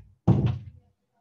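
A door shut with a single solid, close thud that quickly dies away into silence.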